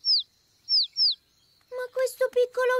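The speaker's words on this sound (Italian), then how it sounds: "Ma non cinguetta abbastanza forte." A cartoon baby bird gives three quick, high, downward-sliding chirps close up, then a voice starts talking.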